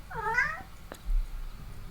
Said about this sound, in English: Well, hello, kitty. My cat's saying hi.